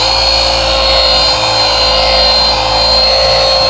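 A Rupes polisher runs at speed 2 with no pressure on the pad, giving a loud, steady, high-pitched mechanical whine that stays even throughout.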